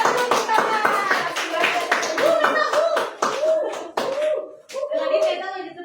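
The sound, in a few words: children clapping hands in classroom applause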